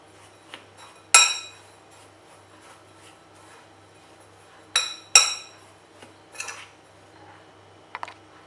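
A spoon stirs rava with salt, chilli powder, pepper powder and cumin in a bowl, giving a few sharp metallic clinks and scrapes spaced apart against quiet background, close and without talk.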